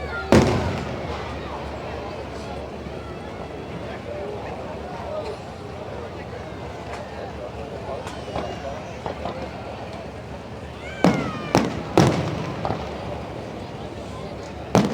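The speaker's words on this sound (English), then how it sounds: "They wasted no time at all with these fireworks." Repeated booms and crackles of fireworks over a steady crowd-like roar at a night drag race at Keystone Raceway, Pennsylvania, with several sharp, loud bursts clustered near the end.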